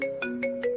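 A phone ringtone plays a short electronic tune with repeated tonal pulses, clear and close, with no other sound around it.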